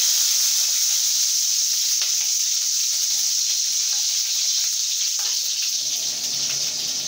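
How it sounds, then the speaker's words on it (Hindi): Chopped green chillies dropped into a hot pan of frying egg bhurji, a steady bright sizzle and hiss throughout, with faint clatter toward the end. "अभी इसमें मिर्ची, जो हरी मिर्च काट के रखी थी, वो डाल दूंगी।"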